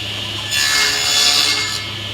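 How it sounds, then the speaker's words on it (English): A saw cuts a dado into a wooden board in one short, loud pass, a rising rasping whine over a low motor hum that fades back to idle. "I'm going to cut a dado on the other edge of this board"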